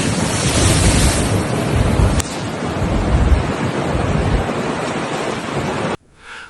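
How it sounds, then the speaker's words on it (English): Heavy storm surge from Cyclone Harry pounding the Sicily coast: a loud, continuous roar of crashing surf mixed with strong wind buffeting on the microphone, cutting off abruptly near the end. "the powerful storm surge caused by Hurricane Harry, with waves exceeding 6 meters in height"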